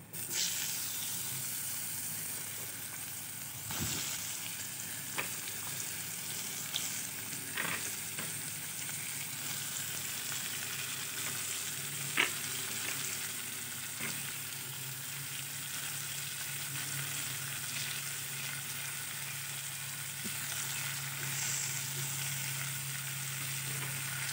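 Cut ash gourd pieces frying in a pan with turmeric and green chili, a steady close sizzle running throughout with occasional stirring clicks and taps, no talking.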